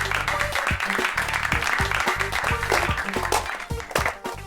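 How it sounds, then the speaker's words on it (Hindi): Applause from an onlooking crowd, a dense burst of clapping filling the scene at a steady loud level, with some voices mixed in. "ठोको ताली।"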